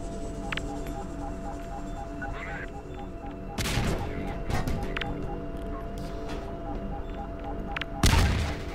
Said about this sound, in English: I can throw as many grenades as I want.